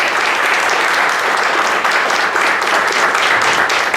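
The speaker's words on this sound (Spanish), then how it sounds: "demos un aplauso de bienvenida a la maestra María Eugenia" Dense, steady applause from an audience welcoming a speaker at a lecture on oral criminal trials, many hands clapping evenly at full volume throughout with no voices.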